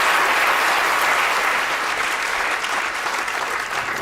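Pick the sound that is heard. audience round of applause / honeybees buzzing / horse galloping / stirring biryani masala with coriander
audience round of applause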